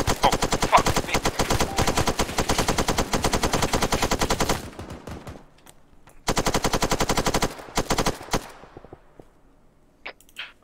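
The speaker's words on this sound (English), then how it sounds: "Machine gun on opposite." Rapid bursts of machine gun fire in the video game Arma 3, a dense rattling string of close shots for several seconds, a pause with faint noise, another shorter burst, then a few isolated distant cracks.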